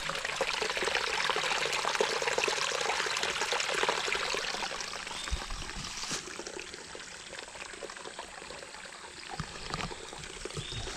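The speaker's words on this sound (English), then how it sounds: "That little bit of water you hear there" A small river stream trickling at low water, running steadily and fairly close throughout, with a soft splashing wash and no voices.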